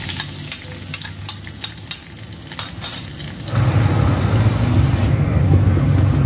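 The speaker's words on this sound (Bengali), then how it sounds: "পেঁয়াজটা আমি হালকা একটু ভেজে নেব।" One cup of onion paste hits a mix of mustard and soybean oil, and after a few quiet clinks a loud, close, continuous frying sizzle surges up and holds steady to the end.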